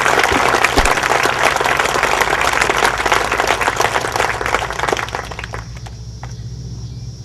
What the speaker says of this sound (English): We owe our troops a round of applause